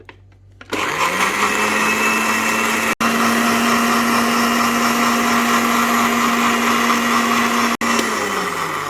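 A blender mixing a mint margarita starts up and runs with a loud, steady high-pitched whir, briefly cutting out twice before continuing, close by and with no speech.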